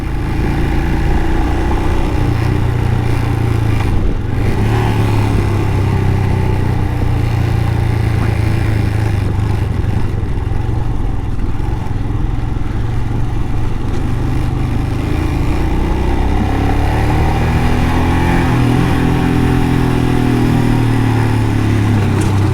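A Royal Enfield Himalayan motorcycle climbs the Zojila mountain pass road, its single-cylinder engine droning loud and steady at close range with slight rises and falls in pitch, heavy wind rumble underneath, no speech.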